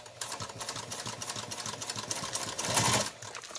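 A sewing machine stitches bulk rice bag fabric on a long stitch length, giving a steady, fast mechanical chatter up close that grows slightly louder near the end before stopping.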